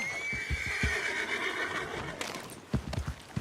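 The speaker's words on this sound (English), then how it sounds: "My favorite horse." A horse named Old Father Time in the video game Red Dead Redemption 2 gives a long, clear whinny over soft hoof clops, followed by a few heavier hoof thuds.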